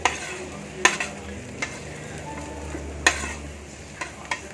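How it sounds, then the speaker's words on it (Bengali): Potatoes and ridge gourd fry with poppy seeds in a pan, a constant low sizzle broken by sharp scrapes and clinks of a spoon stirring at irregular intervals. "এরই মধ্যে এখন দিয়ে দেবো ঝিঙেটাও, ঝিঙেটা দিয়ে দিচ্ছি"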